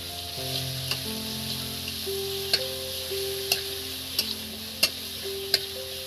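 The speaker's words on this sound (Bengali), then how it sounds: "রসুনটাকে বেশ করে একটু নেড়ে চেড়ে নেবো।" Garlic paste ground on a grinding stone fries in a pan with a steady soft sizzle, while a spatula strikes the pan in several sharp taps at an unhurried rhythm, close by.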